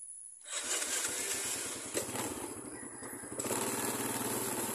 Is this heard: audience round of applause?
no